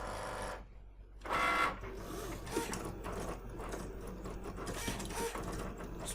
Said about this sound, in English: So what it's doing here is just setting up the cutter.